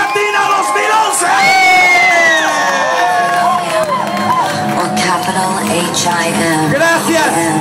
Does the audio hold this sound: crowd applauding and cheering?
yes